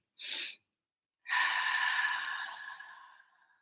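A deep inhale during a breathing exercise, close and clear: a short sharp intake, a pause, then a long breath that gradually fades over about two seconds.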